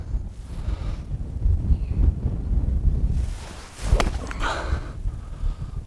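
Wind gusts across an open golf course, buffeting the microphone as a steady low rumble that swells in the middle and again near the end, with no talking.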